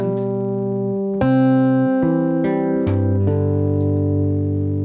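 Fingerpicked acoustic guitar plays a few sustained notes and chords from the tune I Shall Not Be Moved, each pluck ringing clearly over a steady bass note, with no talking.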